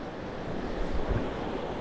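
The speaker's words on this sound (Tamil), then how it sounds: "கடல் தண்ணி அப்படியே அது வந்துக்கிட்டே இருக்குது" Sea water surging in from the open sea into Pulicat Lake, a broad steady rush of surf and wind noise with a slight swell in the middle, no voices.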